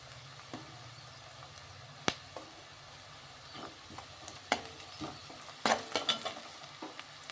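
Soft frying of chopped onions in a pan with turmeric and salt, a low steady sizzle broken by sharp spatula clicks and scraping stirs, quiet and close, with no voices.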